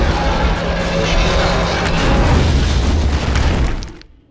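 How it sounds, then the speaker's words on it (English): Grenade explosion in the video game Borderlands 2, a loud sustained boom with a rumbling, crackling body lasting several seconds before cutting off abruptly. "Oh, that ain't gonna work. Wrong grenade."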